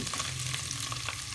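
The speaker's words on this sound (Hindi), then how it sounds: "अदरक लहसुन फ्राई हो चुका है, अब हम इसमें डाल देंगे" Ginger and garlic fry in a pan for white chicken biryani, giving a steady, close sizzle with a few faint stirring scrapes and no voices.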